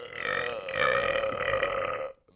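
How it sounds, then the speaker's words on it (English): A loud, long burp rumbles for about two seconds with a throaty, uneven tone before cutting off abruptly, close and alone with no talking. "That sounded like a very satisfying burp"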